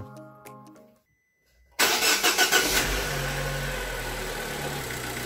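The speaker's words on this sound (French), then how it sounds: "Donc je vais démarrer le moteur et je vais juste vérifier ça." After a brief silence, the 1.4 T-Jet engine of a Fiat Grande Punto cranks with a few rapid turnovers after a timing belt change, catches, and settles into a steady idle, loud and close.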